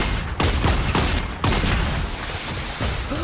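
Homing missiles fire in rapid succession in Fortnite, a dense, loud volley of launches and blasts with sharp repeated bursts throughout.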